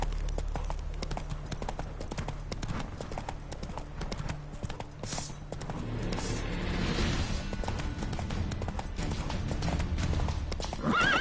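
Roach the horse from The Witcher 3 clops along at a steady trot, hooves beating in a fast, even rhythm, broken partway by a loud whinny, with game ambience underneath.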